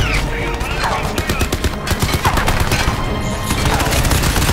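Dense, rapid automatic gunfire from the game Crysis 3 fills the whole stretch, with loud rattling bursts and clattering shots, and a voice talks underneath.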